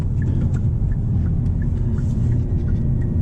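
Hyundai Elantra N with a six-speed manual pulling in second gear, a steady, loud low engine rumble and drone heard from inside the cabin, with no talk.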